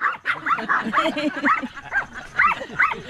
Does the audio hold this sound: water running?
no